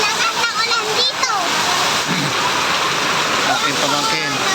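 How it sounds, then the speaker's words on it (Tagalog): Heavy rain pouring down outdoors, a loud, dense and steady rush of falling water close by. People talk over the downpour. "ang lakas ng ulan dito."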